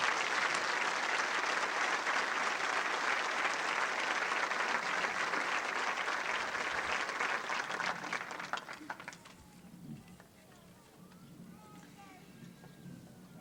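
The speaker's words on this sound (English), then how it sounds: "Let's give him a round of applause." Applause from a high school commencement audience, broad sustained clapping across a large crowd that fades and thins after several seconds, leaving quieter room noise and scattered voices.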